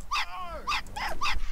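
A dog in Hitman Blood Money barks four times in quick succession, each bark sharp and fairly close, the barks spaced roughly evenly over a second and a half.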